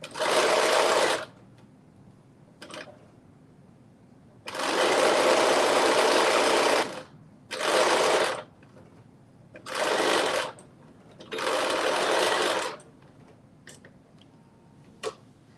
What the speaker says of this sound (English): why is my sewing machine sewing so slow